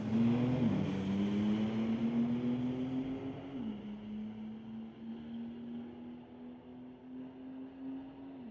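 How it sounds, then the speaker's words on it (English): Engine roar from a 2022 Porsche and the Pink Infiniti drag racing at a street-legal strip, loud and steady with a rising pitch, a shift near the start and another partway through, then a long sustained drone with no talk. "Meredad from North Van in the 2022 Porsche going against Dahlia Shaw in the Infinity, called the Pink Infinity"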